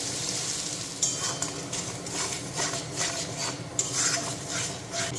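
Spice paste stirred into fried onions in a hot pan, a soft steady sizzle with the scrape and clink of a spoon against the pan, close and fairly quiet, no voices.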